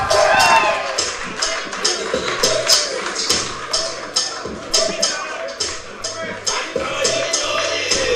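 Scattered claps and cheering from an audience at a university World Philosophy Day event in Lusaka, Zambia. Irregular sharp hand claps ring out over a murmuring crowd, with some voices mixed in.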